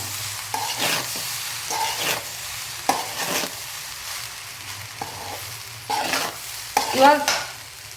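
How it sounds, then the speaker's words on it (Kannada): Egg fried rice is stirred and tossed in a pan over a high flame, with repeated rhythmic scraping strokes of the spatula over a continuous close sizzle. "ಇವಾಗ ಉರಿನ ಜೋರಿಟ್ಕೊಂಡು ತಿರುವಾಡ್ರಿ"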